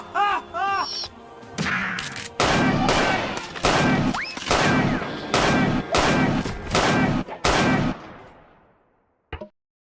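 Comedic Kitchen Gun shotgun blasts, a rapid series of loud, close bangs with brief gaps between them, fading to quiet, then one last short burst; a voice is also heard in the clip.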